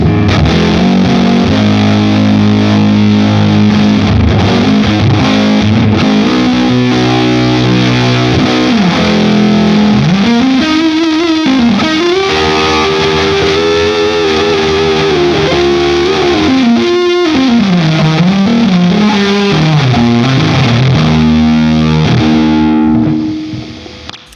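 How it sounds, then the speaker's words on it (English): Overdriven electric guitar plays a continuous melodic line with bends and sustained notes, washed in reverb, loud and unbroken until it fades at the end. "Now we bring in some reverb."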